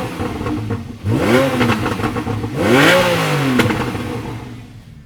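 A Porsche 911 Targa 4S idles with its sports exhaust valves open, blipped twice at a standstill into loud, close revs that rise and fall with a deep growl and crackling burble.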